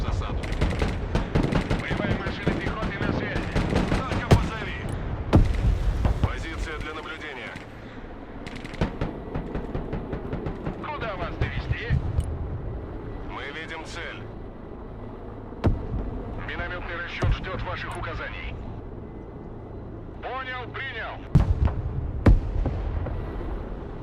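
Battle noise from the video game Broken Arrow, with mortar fire among repeated booming blasts and rattling gunfire spread through a long stretch, some reports close and loud, others distant, while a voice talks intermittently over it.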